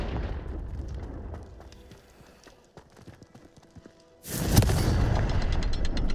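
Confringo explosive spell in the video game Hogwarts Legacy, a sudden loud blast that erupts after a quieter stretch of scattered clicks and clatter, then roars on as a sustained rumble.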